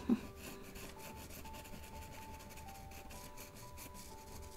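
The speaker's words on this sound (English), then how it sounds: "Luckily with sandpaper you can keep adjusting." Sandpaper rubs lightly over a colored pencil drawing of chicks, a soft continuous scratchy rasp that follows one faint tap and holds steady at low level with no voices.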